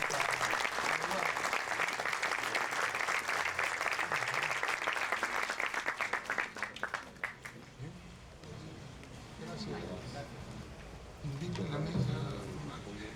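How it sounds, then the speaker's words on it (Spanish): A seminar audience claps in thanks, dense and steady for about seven seconds before fading out, after which someone speaks alone at a moderate distance. "volvamos a reiterar ese aplauso de agradecimiento a nombre de todos nosotros"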